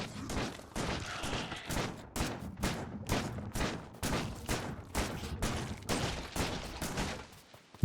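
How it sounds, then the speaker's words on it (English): Rapid bursts of gunfire from a machine gun and then a shotgun blasting spider spawners in Factorio, loud, repeated shots in an uneven rhythm throughout. "first using the machine gun and then the shotgun"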